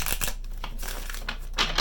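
Tarot cards are shuffled close by, a few quick papery riffling bursts in a short, faint sequence.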